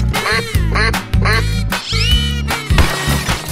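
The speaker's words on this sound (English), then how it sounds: "Duck." A cartoon duck quacks loudly in several rapid, nasal bursts over a steady musical backing.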